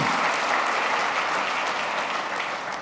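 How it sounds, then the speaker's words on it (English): An audience at the 2015 Optimist International Convention applauds, a loud, dense, continuous burst of clapping that holds steady for nearly three seconds before easing slightly at the end. "Let's give him a round of applause."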